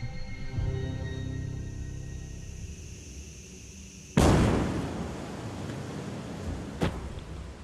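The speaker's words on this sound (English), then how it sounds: "When we were pressing the nitrogen system, we had an explosion that took out the rocket" SpaceX Booster 18 rocket exploding during a nitrogen pressure test, heard from a distance as a sudden loud blast followed by a long rumbling decay and a second, sharper bang a few seconds later.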